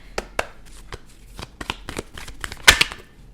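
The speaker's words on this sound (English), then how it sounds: "I'll shuffle it just to clear the energy here." Cards riffle and snap in a series of quick, crisp bursts, close up and fairly loud, with brief pauses between shuffles.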